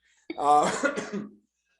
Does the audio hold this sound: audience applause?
no